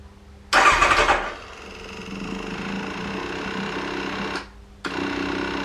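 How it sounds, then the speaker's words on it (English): Kawasaki ZX9R motorcycle engine cranked over by the starter, a loud whirring burst followed by a steady churning drone that stops briefly, then resumes; no one speaks. "So I'm just cranking it over a couple of times."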